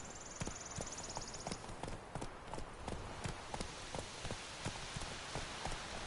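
Horse hooves clip-clop steadily in a galloping rhythm in The Witcher 3, with rain falling on surfaces throughout and a brief rider's call near the start.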